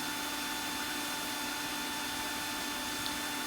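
Turned wood spinning on a lathe while being sanded with 320 grit sandpaper, a steady broadband hiss and whir with a constant motor hum, continuous and even throughout with no talking.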